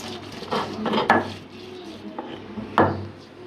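Shrimp and amra paste mixed in a pot, with a few sharp clanks of a utensil against the metal and soft scraping stirs in between, close and fairly loud.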